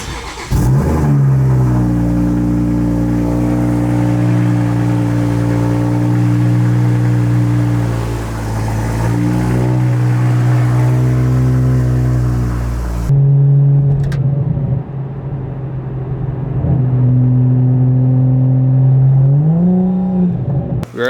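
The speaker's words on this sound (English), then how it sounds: "we're gonna start up the car, let it warm up for a little bit" Toyota A90 Supra engine starts with a sharp catch, then settles into a loud, steady high idle during warm-up, with a brief blip of revs partway through before the idle drops slightly and holds.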